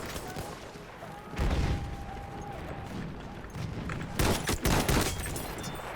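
Farquhar rifle gunfire in Battlefield 1 on the Monte Grappa map, quiet background battle noise broken by sharp shot bursts, one around the middle and a loud cluster of rapid shots near the end.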